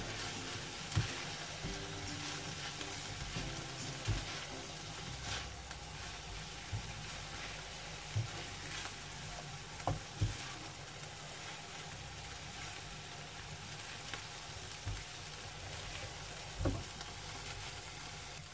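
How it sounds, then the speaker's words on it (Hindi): Noodles stir-fried and tossed in a hot pan for a Singapore-style rice dish, giving a steady sizzle broken by periodic scrapes and clatters of the utensil, close and continuous with no talking. "ये नूडल्स डाल देंगे। नूडल्स को हम मिक्स करेंगे इसके साथ।"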